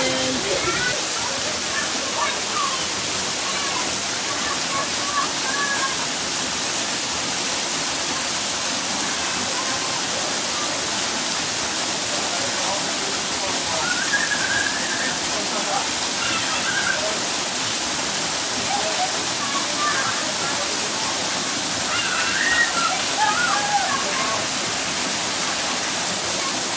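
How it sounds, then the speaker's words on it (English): A waterfall in the Smoky Mountains roars as a steady, dense rush of falling water heard from close by, constant and loud throughout with faint splashes. "From behind the waterfall, there's a little pool."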